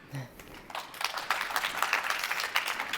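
An audience at a live quiz show claps together in a steady, moderately loud burst of many hands that runs on for a few seconds after a brief voice at the start.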